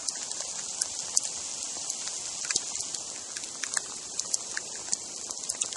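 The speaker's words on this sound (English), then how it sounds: "Look at that sleet just bouncing around." Sleet falls steadily during an ice storm, with many small pellets ticking and bouncing off surfaces in quick, irregular clicks over a soft hiss, fairly close and with no talking.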